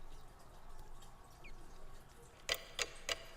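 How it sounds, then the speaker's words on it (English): A clock in the Umineko When They Cry visual novel ticks four times in a sharp, evenly spaced run near the end, after a quiet stretch of soft background hum. "I really love that clock too and all. I love the effects of this visual novel."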